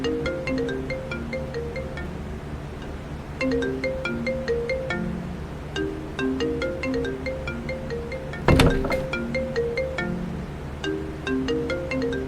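A mobile phone ringtone plays a repeating melodic tune in steady cycles, with a brief sharp knock or bump near the end. Nobody speaks over it.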